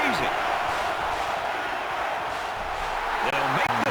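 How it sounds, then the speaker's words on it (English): A packed college football stadium crowd at a JMU at Alabama game roars loudly and continuously throughout, with a commentator's voice briefly heard near the start and end. "This crowd is going absolutely crazy."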